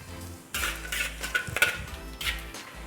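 Cumin seeds with dry red chili, green cardamom, cinnamon, bay leaf and cloves stirred in hot oil, a close sizzle with scraping spoon-on-pan clatter in short bursts, no talking.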